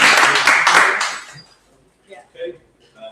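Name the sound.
audience applause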